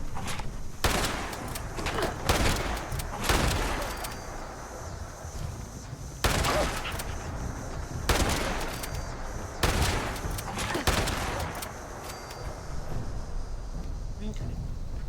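Gunfire from the Fallout video game comes in rapid, loud bursts of shots, separated by short pauses and repeated across the whole stretch, with a low rumbling background between volleys.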